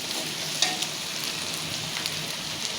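Green chilies and a ginger-garlic-onion spice paste frying in a pan give a steady, close hiss with a few small crackles and pops throughout, and no voices.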